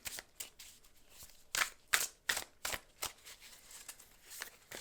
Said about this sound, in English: let's just give it another little quick shuffle